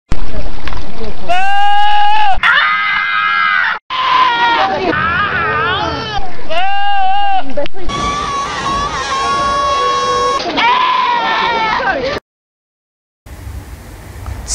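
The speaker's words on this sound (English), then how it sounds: "Do goats really sound like Chris Tucker" Loud, wavering bleats like a goat's, repeated in long cries with crowd noise underneath, then a short break.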